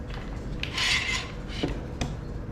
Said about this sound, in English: And we'll take another clamp